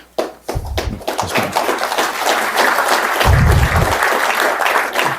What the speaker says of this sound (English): that was our Halifax area MPs who were applauding first.